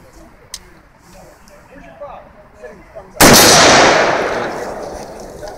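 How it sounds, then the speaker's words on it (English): A single loud rifle shot cracks close by at a shooting range, with its echo trailing off for a couple of seconds after faint clicks and handling noise. "Rack the charging handle. Yep. Nice. Or one more shot here."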